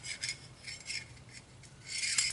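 Soft, steady rubbing and rasping as solvent is worked by hand into Savage 64 rifle parts, close and fairly quiet, in repeated short strokes that swell louder near the end.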